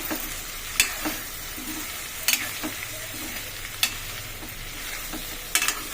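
Sliced okra frying in oil in a pan gives a soft steady sizzle under a low hum, broken by a few sharp clacks of a spoon against the pan spread through the stretch.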